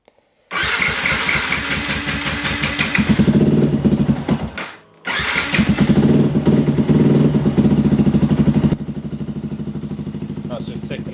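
Yamaha MT 125 motorcycle engine cranks and catches, runs loudly with a brief dip and restart, then settles into a steady, slightly quieter idle; speech is also detected.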